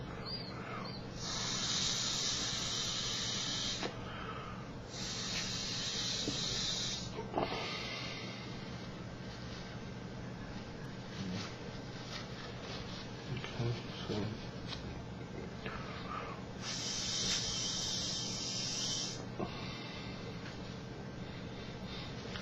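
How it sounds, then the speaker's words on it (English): Breath is blown through the atomizer of a Totally Wicked Titan 510 e-cigarette onto a tissue. Three or four airy hissing puffs, each lasting a couple of seconds, sound close over a steady background hum. "I'm just going to sort of blow it out onto a tissue"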